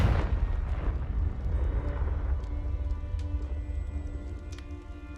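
A Confringo spell detonates in Hogwarts Legacy, a loud booming blast with a deep rumbling roar that slowly fades over several seconds, with faint crackles trailing after.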